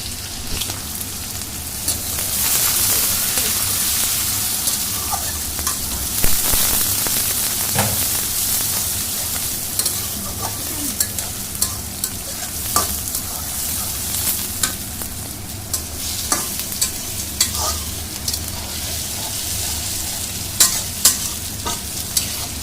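Onions and garlic frying in a pan for khichuri, a steady close sizzle with stirring scrapes running throughout and no talk.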